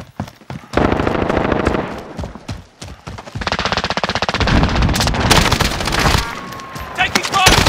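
Video game gunfire in a firefight, with sustained bursts of rapid automatic shots broken by short pauses, loud and close, and a voice briefly heard among the shots.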